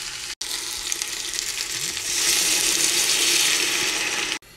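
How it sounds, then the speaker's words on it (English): Dry white cooking wine poured into potatoes and onions sizzling in a pan on a 1927 Quality range, giving a steady loud frying hiss that swells louder partway through and then cuts off. "Now I'm going to add in 1/2 cup of some dry white cooking wine."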